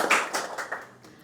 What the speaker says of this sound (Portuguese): Uma salva de palmas essa pergunta!